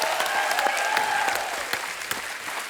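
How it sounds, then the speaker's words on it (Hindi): A studio audience at a comedy show applauds loudly and continuously, dense clapping from a large crowd that stays steady before easing slightly toward the end. "जोरदार तालियां हो जाएं।"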